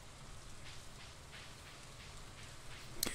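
Rain in Stardew Valley, a faint steady patter of drops with soft hiss, no voices, and a brief small tick near the end.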